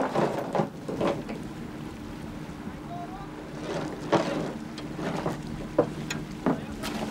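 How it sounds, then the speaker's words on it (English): A boat engine slows down while moving over shallow coral off Tahiti, with wind and water noise, intermittent knocks and a person talking. "I'm slowing down because there are lots of corals, and that could damage the engine"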